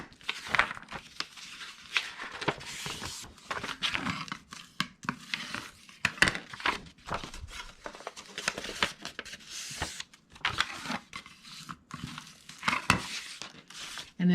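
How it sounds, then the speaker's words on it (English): Scored paper is folded and burnished with a large spatula, making soft, intermittent crinkling, scraping and rubbing strokes, quiet and close, in irregular bursts with brief pauses and no talking. "I'll use my big old spatula to fold and burnish"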